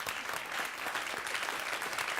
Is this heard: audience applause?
yes